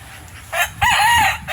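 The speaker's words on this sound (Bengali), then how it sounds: "মুরগি দেখেন কাঁঠাল গাছ উঠে বসে রয়েছে" A chicken perched up in a jackfruit tree gives a single loud, close crow that rises and holds briefly before breaking off.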